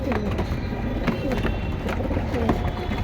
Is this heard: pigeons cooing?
yes